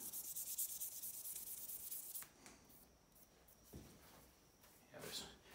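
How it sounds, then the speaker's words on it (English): Stabilized koa wood is hand-sanded with 600 grit sandpaper, giving a close, brisk scratchy rubbing in quick strokes that pauses and resumes briefly; the sound is fairly faint. "now I've switched to a 600 grit. Just going over it quickly."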